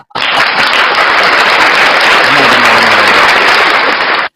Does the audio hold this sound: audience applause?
yes